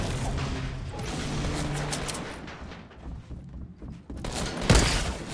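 Sniper rifle fire in Fortnite, with mechanical clatter and a sharp loud shot near the end of a short burst of game action.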